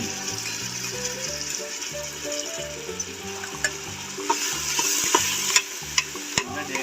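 Onions fry in hot oil with a bright, steady sizzle and repeated scraping, clattering stirs that grow busier toward the end, while a soft melodic tune plays underneath.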